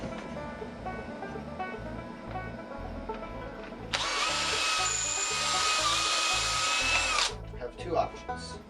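A power drill bores into wood for an elastic band powered wooden gun, a sustained high whine for a few seconds before winding down, up close over a low background murmur.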